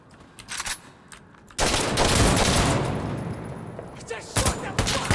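Automatic gunfire in Insurgency: Sandstorm breaks out as a dense, loud, sustained burst of rapid shots with heavy recoil. Scattered lighter shots come before it and return near the end, and a voice talks underneath.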